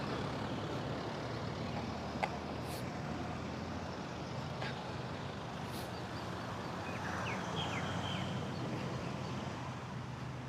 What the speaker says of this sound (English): That classic car again.